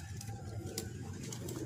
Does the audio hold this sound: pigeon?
yes